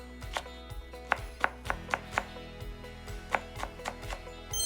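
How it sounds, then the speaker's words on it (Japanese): A knife finely minces deseeded green bell pepper on a cutting board, a run of crisp, evenly spaced chops with brief pauses over a low background hum, and no one speaking. "種外して、これ玉ねぎと同じぐらいのサイズのみじん切りにしていきます。"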